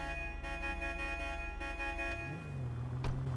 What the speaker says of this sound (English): That honking is a fucking noise violation.